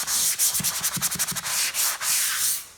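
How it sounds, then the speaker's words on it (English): Rapid back-and-forth scraping of a sanding block on drywall, a steady run of rhythmic strokes, close and fairly loud with no talking. "and fine sand that back."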